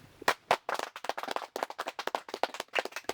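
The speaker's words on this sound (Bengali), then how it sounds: "আপনারা সবাই আমার লাগে একটা তালি দিন।" A small gathering at a village committee meeting claps by hand: close, sharp, irregular claps from a handful of people, spread across a few seconds without any voices.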